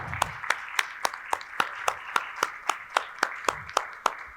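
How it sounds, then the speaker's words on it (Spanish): Steady, evenly spaced hand claps ring out at a reading and oral storytelling conference in a Spanish-speaking venue, about a dozen crisp beats in a slow rhythm with no talk. "Un aplauso."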